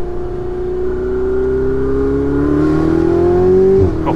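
Ferrari 488 Spider accelerating hard on a mountain road, loud engine note climbing steadily in pitch through one gear, then a sudden drop as it shifts near the end.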